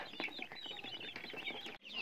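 Free-range village hens in a mesh-fenced poultry compound, clucking busily and close, with overlapping squawks throughout and a brief drop near the end.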